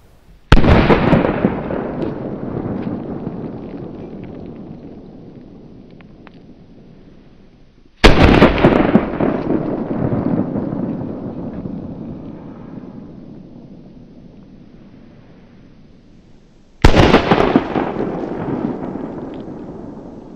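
Three loud, sharp firecracker blasts go off several seconds apart around New Year's Eve, each followed by a long crackling, echoing decay as the report fades away.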